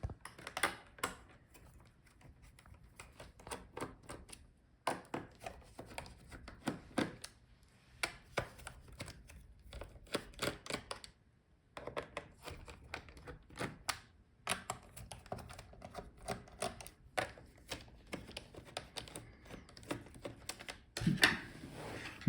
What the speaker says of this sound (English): Start with bottom screws.